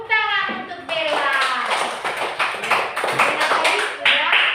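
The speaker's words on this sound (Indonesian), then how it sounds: "Tepuk tangan untuk Bella" Classroom clapping for a pupil named Bella: a burst of quick, uneven hand claps from a group of children, mixed with high children's voices calling out at the start.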